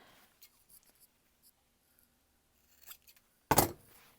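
Scissors snip the fabric corners of a sewn bag: faint rustling handling sounds, then a single sharp, close cut.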